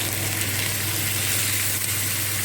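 Steady, even sizzle of garlic and ginger paste frying in a pan with browned onions, a continuous close crackling hiss with no talking over it.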